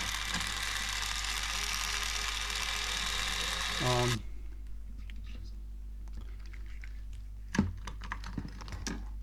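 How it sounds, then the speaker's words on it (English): A motorized screwdriver drives screws into the frame of a Sovol SV06 Plus 3D printer, a steady mechanical whir that runs for about four seconds and then cuts off, leaving faint handling clicks and a short knock. "a motorized screwdriver makes it much easier and quicker to put these screws in"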